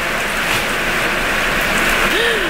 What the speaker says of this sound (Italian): Sentite come piove.